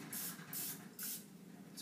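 Cooking spray hisses from a can in three short, even bursts, close but fairly soft, with no voices.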